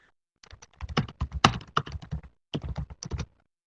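Someone types briskly on a computer keyboard nearby, a rapid run of clicky keystrokes, a short pause, then another quick burst.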